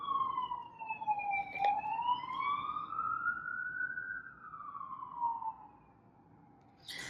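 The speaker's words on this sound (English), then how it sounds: "We already got the sirens in the background" A siren wails at a distance, its pitch rising and falling slowly in a long sweep against faint background noise before fading out.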